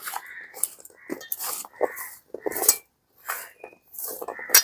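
Raw tamarind pickle being mixed with spices by hand in a metal bowl, producing irregular wet squelches and light clinks and scrapes against the dish, close and fairly quiet with short pauses.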